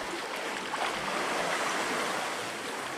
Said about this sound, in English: Wait, I'd wait for a couple of waves, see how it goes.